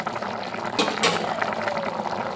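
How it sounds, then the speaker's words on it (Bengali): Thin hilsa fish curry broth pouring from a pan onto a plate, a steady liquid wash with two brief louder splashes partway through, close and moderately loud. "এবার ঢেলে নেব ঝোলটা"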